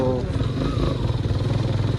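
A motorcycle engine rumbles steadily close by, a low continuous drone with people talking over it.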